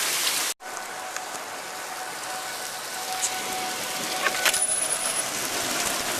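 Steady rain pattering on a hard surface, a continuous hiss with scattered drips, after a brief dropout near the start.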